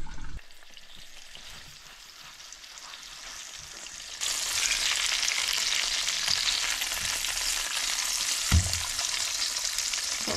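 Wahoo fillet searing in a hot pan, a steady bright sizzle that jumps louder partway through and keeps hissing, with a brief thump near the end; no one talks.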